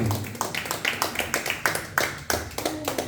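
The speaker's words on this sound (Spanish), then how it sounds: "Denle un fuerte aplauso al Señor." A church congregation claps in a loose rhythm during a Spanish-language sermon, a steady run of close, sharp hand claps with no voices over them.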